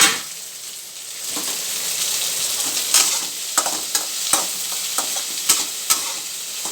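Okra fries in hot oil with a steady bright sizzle, broken by several sharp scraping taps of a spatula against the pan; close and alone, no voices.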